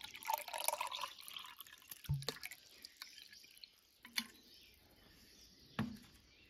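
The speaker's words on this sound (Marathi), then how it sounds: "त्यामध्ये आपण टाकणार आहोत थंड पाणी." Cold water poured into a glass of kokum syrup, heard as faint splashing at first and then a few sparse drips and small liquid plinks in a quiet room.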